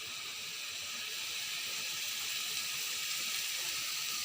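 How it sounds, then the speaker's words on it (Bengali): Oil hissing in a hot wok, a steady bright sizzle at an even, fairly loud level throughout, with no talking over it. "কড়াটা একটু গরম ছিল তো তার জন্য আওয়াজটা হচ্ছে"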